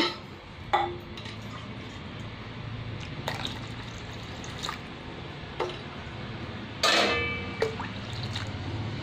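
Water is poured into a pot of home-style sambar, a soft, faint trickle and drip under steady kitchen background, with a few sharp clinks of utensils against the pot.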